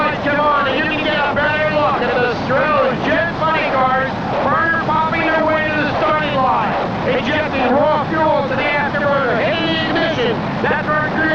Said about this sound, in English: Jet Funny Cars, burner popping their way to the starting